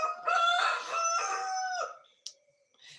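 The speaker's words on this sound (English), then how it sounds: "So the chicken start making voices, start the noises." A rooster crows in the dark before dawn, one long loud close call with rising and falling harmonic notes lasting about two seconds, followed by a short sharp click and a faint rustle.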